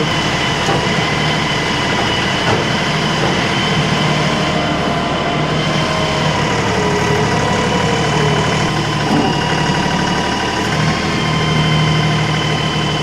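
A small 35 horsepower LS tractor engine runs steadily close by, a constant mechanical drone with rattling and faint squeaks, and no talking.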